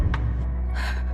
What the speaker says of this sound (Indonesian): Dan suara orang terengah-engah,